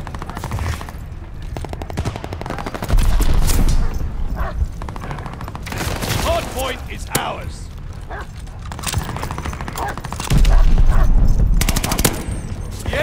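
Rapid video-game gunfire erupts around a hard point under attack, with dense bursts of automatic fire and heavier booming shots close in, continuing under excited shouted voice chat throughout.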